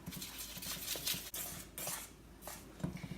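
Almond flour, baking powder and stevia being stirred together in a bowl for muffin batter, quiet scraping and utensil clinks against the bowl in an uneven rhythm, no talking.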